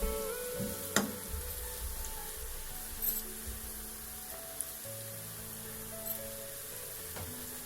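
Salt and chili frying in a pot for palak gosht make a soft, faint sizzle with scattered light clicks and a few sharp spatula knocks, no voices.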